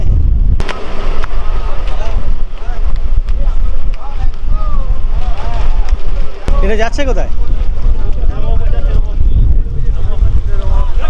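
Strong wind roars across a boat on the Raimangal river in the Sundarbans during a sudden storm, a steady loud rush filling the clip while people talk close by.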